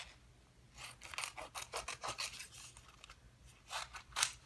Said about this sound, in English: I like to trim around just because it saves room in my bowl.